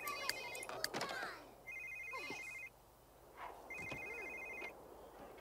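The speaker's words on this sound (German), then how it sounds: "Telefon!" A telephone in the life-simulation video game The Sims 3 rings in repeated electronic bursts with short gaps, alongside quiet game chatter and soft thuds.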